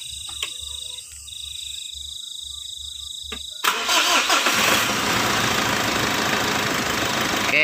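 A Mitsubishi Triton or Pajero Sport diesel engine sits quiet with faint electronic beeping, then cranks and catches at once, settling into a loud, steady idle close by.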